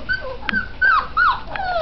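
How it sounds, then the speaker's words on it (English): A puppy whimpers close by in a run of high, wavering whines and short yips, loud and alone. "See, this beautiful puppy needs a home."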